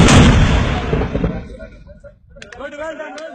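A mortar fires during army training with a loud, close blast that booms and rolls away over a couple of seconds, followed by clicks and shouted voices.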